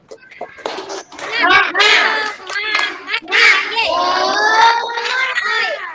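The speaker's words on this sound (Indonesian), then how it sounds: "kita tepuk semangat terlebih dahulu" A school class performs the rhythmic Indonesian 'tepuk semangat' spirit clap, children's voices chanting loudly and closely in unison over patterned hand claps in a classroom.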